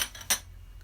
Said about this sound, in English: we're going to give that a bit of a stir